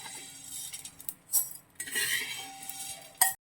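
Coriander seeds dry-roasting in a pan for homemade sambar powder, giving light rattling clinks and crackles as they are stirred, intermittent bursts close up before stopping abruptly.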